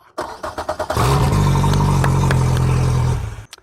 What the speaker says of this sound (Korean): 스즈키 140마력 이 엔진이 시동이 잘 걸리는지 한번 보여드리도록 하겠습니다